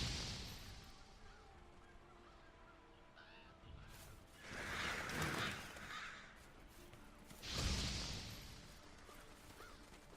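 Revoltures, black scavenger birds in the video game Monster Hunter World, give harsh honking caws in two louder bursts over a quiet ambient bed, with no speech.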